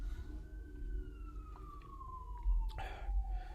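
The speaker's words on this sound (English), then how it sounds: "Oh, siren." An emergency siren wails faintly in the distance, a single drawn-out tone sliding slowly downward over a low background rumble, with a brief rustle near the end.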